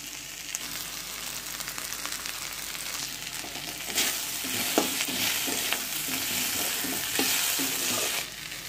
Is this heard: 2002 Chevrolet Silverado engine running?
no